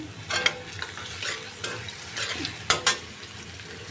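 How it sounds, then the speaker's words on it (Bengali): Chopped garlic and onion frying in a pan while being stirred, a bright sizzle broken by several loud scraping spatula strokes, close up and with no talk. "রসুন কুচি দিয়ে দিলাম"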